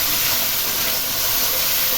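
Dried fish (shutki) being cooked sizzles steadily in a pan, a loud, even, bright hiss that holds without a break and has no talking.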